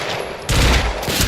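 Pistol fire in the video game Quantum Break, a quick burst of sharp overlapping shots that starts abruptly midway, with a brief follow-up crack after a short gap.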